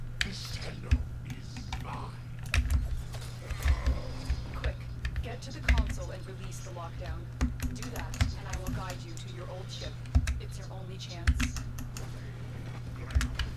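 Keys pressed on a computer keyboard while playing Warframe, rapid irregular clacking that runs throughout, close and steady, with quiet speech and a low hum underneath.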